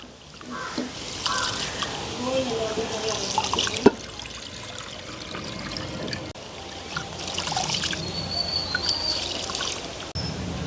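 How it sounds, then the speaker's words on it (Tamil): Rice and vegetables for a village-style vegetable porridge being washed by hand in water, with splashing, trickling and dripping that rise and fall, close and fairly loud, alongside occasional voices. "நல்ல வடிவாக நாங்கள் கழுவி எடுப்போம்"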